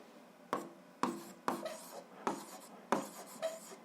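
Pen strokes scratch across paper while an algebra solution is written out, coming in about seven short, sharp bursts at an uneven pace, close and quiet with no talking.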